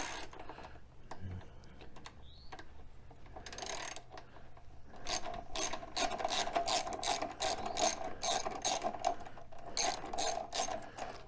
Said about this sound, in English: we'll go ahead and take this 10mm bolt out right here